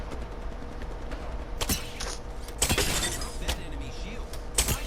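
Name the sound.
gunfire in a video game battle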